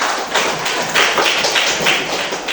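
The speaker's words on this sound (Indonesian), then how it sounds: "Tepuk tangan lagi untuk kelompok" Classroom applause for a student group after their algebra presentation, a dense, steady patter of many hands clapping close by, sustained for the whole stretch with no talk over it.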